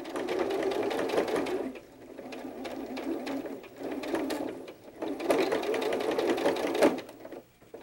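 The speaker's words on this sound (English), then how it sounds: "So I'm going to attach the feet to the belly." Sewing machine attaching feet to the belly of a fabric hedgehog softie, running in several bursts of rapid stitching separated by brief pauses, close and clear with no talk.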